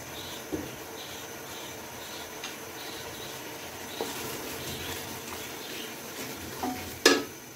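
Whole spices, including shahi cumin, green and black cardamom, cinnamon and cloves, sizzle in hot oil in a pot for chicken biryani, a steady soft hiss with occasional spoon stirs and a sharp clink near the end.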